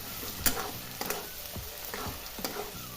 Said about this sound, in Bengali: পেঁয়াজটা আমার প্রায় ভাজা ভাজা হয়ে গেছে